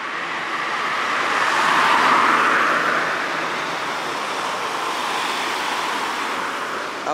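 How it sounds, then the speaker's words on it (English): Traffic passing on a coastal road in Kaikoura, New Zealand, heard as a broad whooshing swell that peaks and fades while sea surf and wind noise continue steadily underneath. "That was traffic that just drove by, just so you know."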